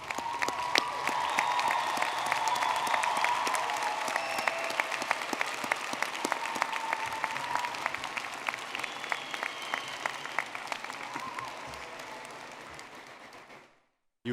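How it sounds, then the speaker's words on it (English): Thunderous applause from a university commencement crowd honoring graduates' parents, family and supporters, dense steady clapping sustained for about thirteen seconds before fading out quickly. "give your parents, family, friends, and other supporters a thunderous round of applause"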